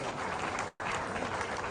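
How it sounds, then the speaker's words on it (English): Audience applause for the First Lady of Oyo State at a women's football tour closing ceremony, a dense, steady wash of clapping. It breaks off briefly in the middle, then resumes at the same strength. "Please let the applause be resounding."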